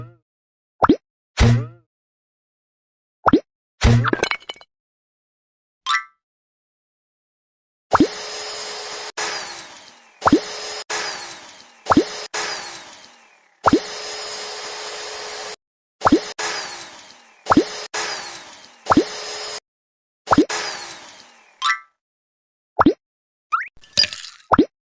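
Ice cubes knocked out of a tray in a BabyBus cartoon kids' game, heard as a series of sharp plopping knocks followed by bursts of crackly, clattering cartoon effects, repeated in quick groups with brief pauses between, all without talk.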